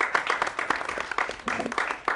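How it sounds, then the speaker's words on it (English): Small audience claps after a student film presentation, with uneven scattered claps of moderate loudness and faint voices mixed in. "Round of applause."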